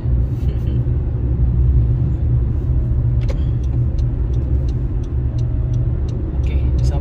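Car driving a highway in Aceh behind large trucks, with a steady low engine and road rumble throughout and a few faint ticks and clatters on top, loud and continuous.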